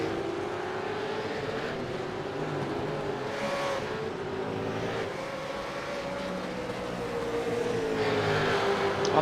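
Supercars race cars at Barber Motorsports Park, with high engine whines rising and falling as cars pass, a steady loud drone that swells louder near the end, with no talk over it.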